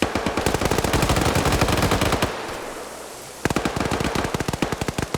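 Video game machine gun fire from an M240B and a PKP comes in rapid, loud, close bursts, with a brief pause in the middle before the hammering automatic fire resumes.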